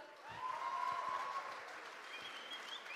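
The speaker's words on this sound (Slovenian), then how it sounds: "Prosim, še en aplavz za našega Aljaža." Audience applause at a Slovenian student council school concert, a broad wash of clapping from a crowd, moderately loud and steady, with a sustained tonal note lingering over it early on.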